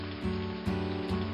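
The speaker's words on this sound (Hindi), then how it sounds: "आ गई बारिश।" Steady rain patters on a surface, a continuous wash of drops with a few louder gusts, no voices.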